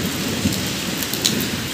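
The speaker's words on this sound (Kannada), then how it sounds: "ಬಟ್ ಫುಲ್ ಮಳೆ ಬಂದ್ಬಿಟ್ಟಿದೆ" Heavy rain pours down outside a home as a steady, loud hiss, with a few sharper drops and a faint rumble standing out, and no voices.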